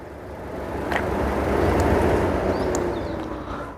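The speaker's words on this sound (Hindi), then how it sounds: "बट इस समय गाड़ी चल रही है" A 2024 Hyundai Creta SX(O) 1.5 manual idles after a push-button start, a low, steady engine hum heard from inside the car, quiet and even for a few seconds with no talking.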